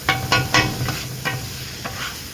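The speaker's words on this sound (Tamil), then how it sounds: "இந்த ஸ்க்ரப்பர் வச்சு அழகாக கொத்திக்கணும்" A metal scraper chops chicken kothu parotta with egg on a hot griddle. About six uneven, clanging strikes land over a continuous close sizzle, with no voices.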